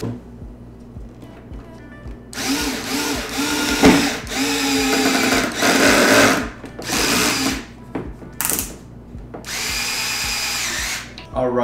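A power drill drives 50 mm M3 screws into an Xcaliber3d Broadsword X-Class drone frame, with several close, loud whirring bursts of a few seconds each, separated by short pauses.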